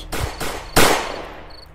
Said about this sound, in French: Ryan brandit son arme semi-automatique et tire 9 balles dans la tête et le torse de Nick.